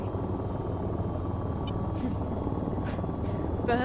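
A helicopter in the flight game VTOL VR gives off a constant low rotor and engine drone at moderate level. Brief faint chirps and a short burst of higher sound come near the end.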